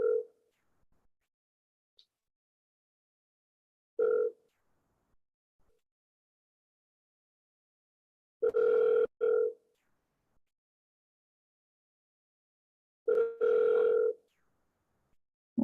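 An outgoing telephone call ringing tone: short two-part electronic rings recurring every few seconds against silence, clear and fairly close, with no talk.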